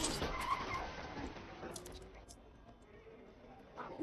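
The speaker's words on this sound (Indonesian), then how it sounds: "Awalnya, dia bisa menghindar, tapi sialnya dia tertabrak oleh mobil." A car skidding in a film scene where it strikes a person on a street: a brief burst of tire screech and impact noise at the start, then fading into a quieter rumble.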